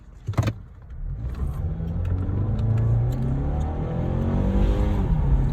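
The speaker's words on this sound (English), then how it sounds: "We're going to do a little acceleration run." A 2021 Mazda CX-5 SUV engine roars as it accelerates hard in sport mode, the low rumble climbing steadily in pitch and staying loud and close throughout.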